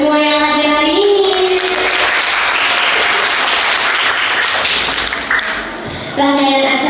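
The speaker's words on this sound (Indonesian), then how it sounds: "mari kita beri tepuk tangan kepada semua yang hadir hari ini" Loud audience applause at a school open house event in Jakarta, a steady dense wash of clapping lasting several seconds with a voice speaking over it at the start and end.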